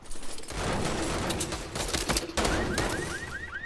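Gunfire in a shooter video game, a dense burst of rapid shots, loud and close, followed by sharper scattered shots.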